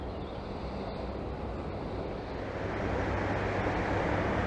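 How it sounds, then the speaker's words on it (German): Water rushing steadily out of the Trollhättan hydroelectric power plant block, a dense continuous roar that swells slightly toward the end, with wind buffeting the microphone outdoors. "Hier sieht man das Wasser, was aus dem Kraftwerksblock hier rauskommt."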